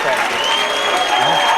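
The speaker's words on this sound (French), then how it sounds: "on l'applaudit" Steady applause from a crowd fills the whole moment, dense clapping with a few whoops and cheers mixed in.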